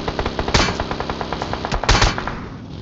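Rapid automatic gunfire from a video game, loud and continuous bursts with a couple of heavier shot impacts, alone without talk.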